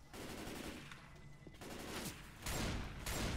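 Pipe bomb blasts in a shooter video game, a dense roar of explosive bursts and crackling gunfire-like detonations filling the short stretch with a loud, sustained barrage that swells near the end.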